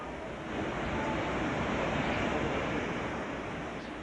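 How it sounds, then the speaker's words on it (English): Storm surge waves and flood waters from Hurricane Iniki on Kauai, a steady roaring wash of rushing water mixed with wind buffeting the microphone, fairly faint and continuous, with no voices. "This is never-before-seen footage of the destructive waters that came with the winds."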